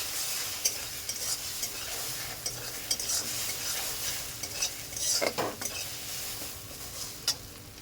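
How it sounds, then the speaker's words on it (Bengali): Beaten egg with salt scrambles and fries in oil in a wok, a steady loud sizzle throughout with repeated scraping and clinks of a spatula stirring against the metal, no voices. "ঝুরি ঝুরি করে ভাজবো।"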